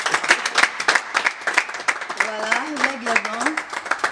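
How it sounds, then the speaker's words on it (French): A church congregation claps and applauds in a lively burst, a voice singing over the clapping partway through. "On applaudit pour cela."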